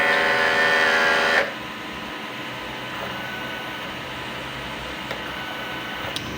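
Sublimation printer running a head clean cycle, first a loud whirring mechanical drone that cuts off abruptly after about a second and a half, then quieter steady hum with a few faint clicks.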